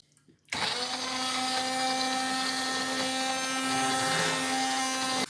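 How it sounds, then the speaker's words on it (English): A blender whirs into a steady, loud, continuous drone, smoothing a curry sauce with onion and salt, starting abruptly after a brief quiet moment and running without pause. "And then I'm going to blend it just to get rid of any lumps of onion."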